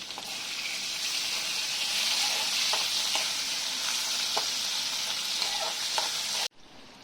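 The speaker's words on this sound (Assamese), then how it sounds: "জুইটো ল' ফ্লেম কৰি ভাজি থাকিম" Boiled potatoes and tomatoes frying in a pan over a low flame, a steady close sizzle and hiss with small crackles and pops throughout, cutting off abruptly near the end.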